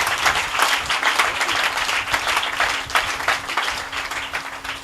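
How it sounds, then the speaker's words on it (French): A church congregation claps and cheers during a French-language service, a full room of rhythmic, pulsing applause with a sustained hum beneath, moderately loud and steady. "Donnez-moi l'acclamation pour toute l'église"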